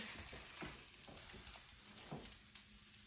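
Bell peppers sautéing in a frying pan, a steady close sizzle with soft stirring scrapes and light clicks of a utensil against the pan, running continuously with no talk.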